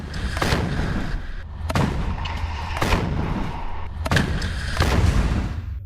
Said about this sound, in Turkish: Son olarak İsrail tanklarına roket saldırısı düzenlediler.